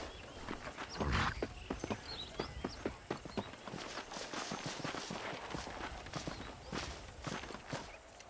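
Horse hooves clip-clop in Red Dead Redemption on PC, a steady walking rhythm of distinct hoofbeats close by, with a brief louder thump early on and no talking.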